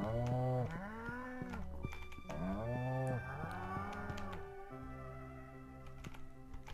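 Several cows moo in the Stardew Valley farming game, long drawn-out lowing calls repeating in a slow rhythm over quiet game music, fairly close and clear.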